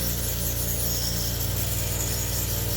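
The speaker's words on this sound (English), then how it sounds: "Always sand it if you want to grab it too on because it's a little slippery." Steady power-tool grinding or sanding on a 3D-printed model, a continuous close whine with a constant motor hum throughout and no talk.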